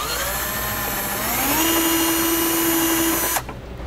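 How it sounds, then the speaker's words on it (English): A power drill with a larger bit whines loudly and steadily, its pitch climbing as it spins up boring a hole, then cuts off abruptly near the end. "when we use a larger drill bit"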